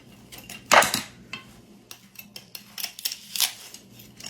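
Knife slicing through crusty barbecued spare ribs on a board, with a loud cutting burst near the start and then softer scraping and clinking strokes; no talking.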